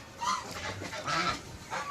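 Raja hans ducks kept in a farmyard honk and call repeatedly at close range as they are herded inside, several loud overlapping calls in quick succession.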